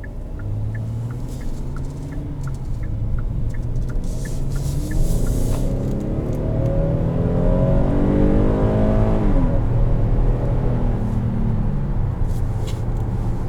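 A 2020 Kia Telluride SUV in Sport mode accelerates hard, its engine note climbing steadily through the gears under a turn signal's quick ticking at the start, heard from inside the cabin.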